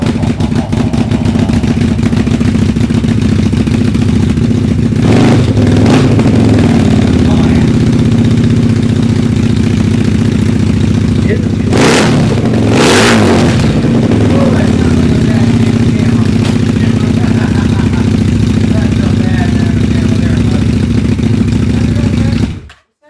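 A motorcycle engine runs loud and close, holding a steady rumbling idle with two brief revs partway through before it cuts off abruptly at the end.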